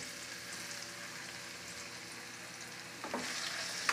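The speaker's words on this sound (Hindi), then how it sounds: "सबसे पहले हम पनीर को फ्राई करेंगे।" Small cubes of paneer fry in ghee in a pan for a veg paneer pulao, a constant close crackling sizzle with one stir or scrape near the end and no talking.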